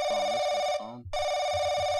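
A telephone rings in The Crooked Man video game, a steady electronic bell tone that breaks off briefly and then resumes, loud and close, with no talking.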